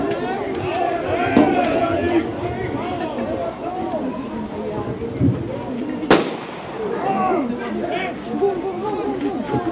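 Police fire gunshots during a special unit demonstration at a Police Day event in Ostrava, with sharp cracks scattered over crowd chatter and commentary and one loud bang partway through.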